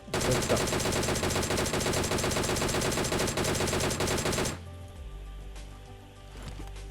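An M762 rifle fires in the video game PUBG, a loud, rapid automatic burst of shots lasting several seconds before cutting off abruptly into quieter game background sound.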